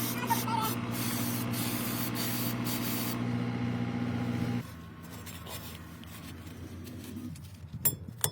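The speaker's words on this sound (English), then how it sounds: "Brake cleaner, professional." Brake cleaner is sprayed onto a Skoda's rear drum brakes in a steady, loud, close hiss lasting several seconds. Quieter metallic clinks and handling noises follow once the spray stops.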